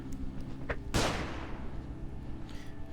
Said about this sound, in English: We'll then throw a grenade. We'll then flashbang.